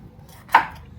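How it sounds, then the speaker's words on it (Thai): A single crisp knife chop on a cutting board, cutting lemongrass for tom yum goong, lands near the middle, close and brief against a quiet kitchen background. "ตะไคร้เราหั่นหัวทิ้ง"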